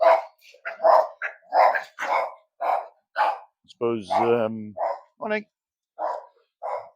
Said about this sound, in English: I suppose there's some more dogs here.